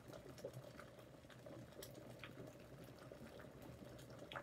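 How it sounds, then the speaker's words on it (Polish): An electric kettle heating water as it begins to boil, a steady soft hiss and rumble with faint bubbling, quiet and continuous throughout with no voices. "Słychać, że woda zaczyna wrzeć."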